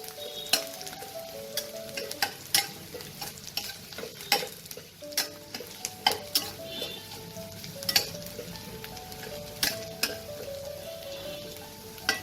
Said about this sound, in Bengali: এই রসুন কুচিটা প্রথমে কয়েক সেকেন্ড আমি একটু নাড়াচাড়া করে নেব তেলে।